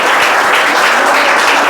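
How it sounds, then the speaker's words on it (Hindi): Students in a classroom clap together at a prize-giving, a dense, steady burst of many hands filling the room at close range with no talking over it. "चलो भाई ताली बजा।"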